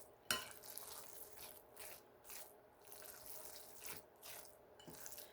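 A broccoli rice casserole mixture is stirred in a pan, giving repeated soft wet scraping sweeps at a steady rhythm, close and fairly quiet, with a couple of sharper clinks of the utensil against the pan and no talking.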